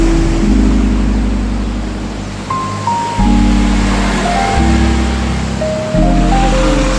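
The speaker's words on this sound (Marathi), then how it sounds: "जोरात धबधबा चालतोय." A powerful waterfall rushes under a bridge at Malshej Ghat, a loud, steady broadband roar of falling water with a low engine-like drone and faint passing tones layered over it.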